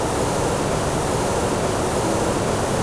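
Steady, dense roar of a waterfall on the Bolaven Plateau in southern Laos, a continuous broadband rush of falling water heard close and loud with no breaks or voices.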